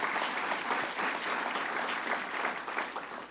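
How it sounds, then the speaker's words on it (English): A crowd at a governor's event in Rochester claps steadily, a dense even patter of applause that keeps going the whole time before tapering slightly at the end. "Bob Duffy, let's give him a round of applause."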